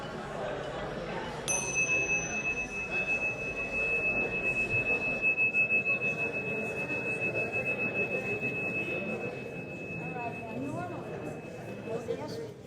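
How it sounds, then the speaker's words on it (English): A soft bell rung in a lecture setting gives a thin, sustained pure ringing tone that lingers for about ten seconds, faint above low room murmur. "you ring the bell? This is a little too soft for them."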